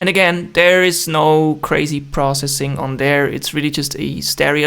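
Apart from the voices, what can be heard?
No everyday noise stands out behind the speech.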